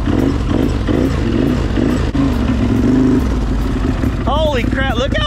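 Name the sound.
squatted Can-Am Outlander ATV engine driving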